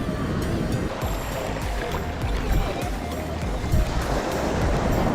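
Sea waves at Aazhimala beach, a continuous loud roar of surf and rushing water close by, with no speech over it.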